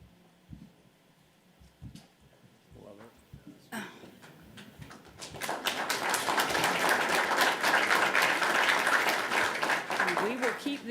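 Audience applause at a board meeting swells from scattered early claps into sustained, dense clapping that fills the room for several seconds, with voices underneath at the start.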